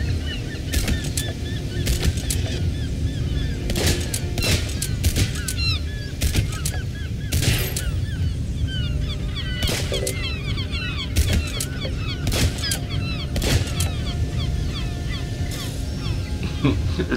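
Geese honk repeatedly through a VR roller coaster video game, with sharp gunshots cracking at irregular intervals over a steady background din, and a voice talks at moments.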